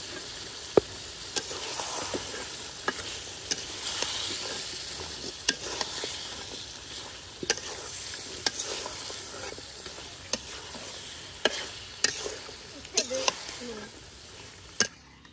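Cut chicken pieces frying in spiced oil in a village kitchen pan, with a continuous sizzle punctuated by frequent sharp spatula clicks and scrapes throughout.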